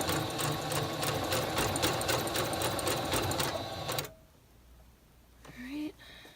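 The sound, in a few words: sewing machine sewing a blind hem stitch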